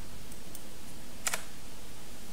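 Typing on a computer keyboard, a few soft scattered keystrokes followed by a quick cluster of clicks and another near the end, close and clear over a steady hiss.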